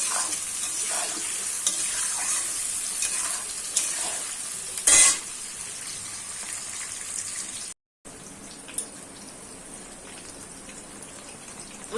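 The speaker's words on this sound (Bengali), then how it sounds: "আমার পেঁয়াজটা ভাজা হয়ে গেছে" Onions salted and frying in a pan for a mutton kosha, a quiet steady sizzle with occasional stirring scrapes and one brief sharp clatter.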